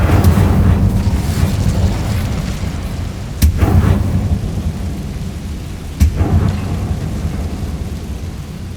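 Two sharp fiery bursts from the Incendio spell in Hogwarts Legacy crack out several seconds apart over a constant roar of rain and rumbling storm ambience.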